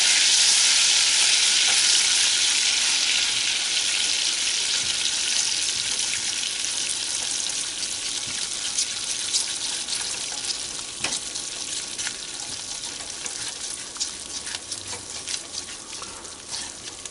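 Salt and mustard mixture being stirred in a hot pan while making Welsh rabbit, a loud hissing sizzle that slowly softens, with faint spoon scrapes and ticks throughout.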